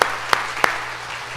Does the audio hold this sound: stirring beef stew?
no